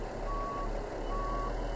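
A big truck in the game Truck World reverses, its backup alarm beeping twice in a slow, steady rhythm over a constant low engine rumble.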